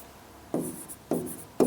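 Chalk or marker strokes on a board during a maths lesson, three short scratchy writing bursts spaced evenly, close and clear with no talk over them.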